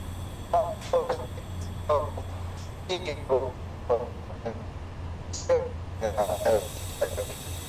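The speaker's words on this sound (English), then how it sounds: "that is some broken comms if I've ever heard any" Garbled, broken radio chatter in the SimRail railway simulator: choppy bursts of distorted voice cut in and out over a constant low electrical hum, with gaps of static between fragments.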